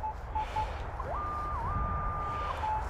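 A Minelab Manticore metal detector sounds a high signal tone over a target, with short beeps and then a sustained, wavering tone above faint outdoor rumble.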